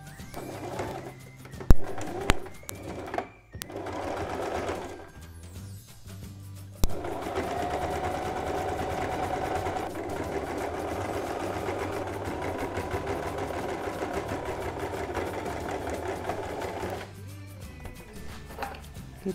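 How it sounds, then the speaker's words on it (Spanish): A sewing machine running a straight stitch on fabric for a baby travel changing pad, a couple of clicks and short bursts at first, then a steady close motor hum and needle chatter for about ten seconds. "Y ahora cosemos en la máquina."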